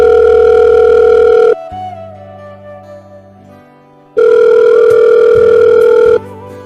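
An outgoing phone call rings on the line, two loud, steady tone bursts separated by a quieter gap, heard clearly with no voices.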